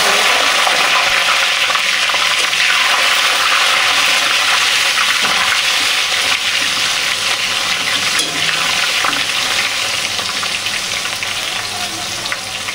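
Goat fat sizzles steadily in a pan with bay leaves while ghugni is cooked for Durga Puja, a loud, continuous crackling fry that never lets up, with no talking.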